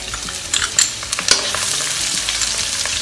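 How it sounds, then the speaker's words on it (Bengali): Chopped onion hits hot mustard oil in a pan, giving a close, crackling sizzle with a few sharp spatula clacks and stirring scrapes, and no voices. "এবার দেব পেঁয়াজ কুচি"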